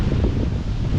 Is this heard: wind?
yes